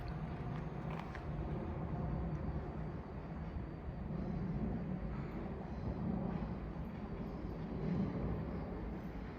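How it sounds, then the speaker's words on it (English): Thameslink commuter train on the Brighton Main Line at South Croydon, running from East Grinstead to London Bridge, passing as a steady broad rumble with wheel and track noise that holds throughout, no talk. "passing will be a Thameslink service, working a service from East Grinstead to London Bridge"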